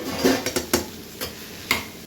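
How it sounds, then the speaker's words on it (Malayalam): Spoon or spatula scraping and clinking in a pan while paneer bhurji is stirred, a few sharp separate knocks spread over a couple of seconds, faint and close, with no talk. "പിന്നെ ഒന്ന് ഇളക്കി കൊടുക്കുക"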